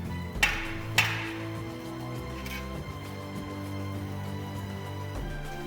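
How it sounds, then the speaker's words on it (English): A knife is hammered down into a whole coconut, two sharp close knocks in quick succession near the start, then a fainter third strike over a low background hum. "Just hammer the knife down into the coconut"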